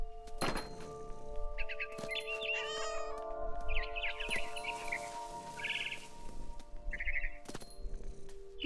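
A cat meows several times in short, clear calls in a video game, What Remains of Edith Finch, with soft thumps and light chirps scattered around them; no talking.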